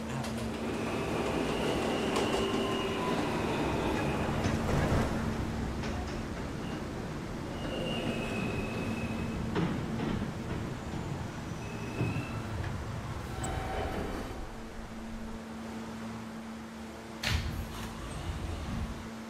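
Subway train ride in a Roblox video game, an R160A F local train bound for Calgary Street, with a steady rolling rumble, a sustained hum, brief high squeals and tones throughout, and a short louder burst near the end.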